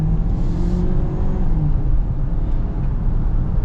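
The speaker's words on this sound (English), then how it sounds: "Pretty quick. That turbocharged engine performs well." A turbocharged 2024 Ford Edge Titanium accelerates, its engine a loud, steady low rumble and whir heard from inside the car.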